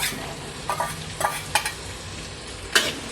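Carrots, onion and minced pork for a tomato spaghetti sauce are stir-fried in a pan, a low sizzle under several distinct spatula scrapes and clinks, close-up with no voices.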